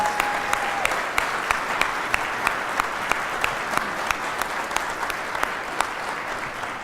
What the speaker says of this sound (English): And you can give them all a round of applause.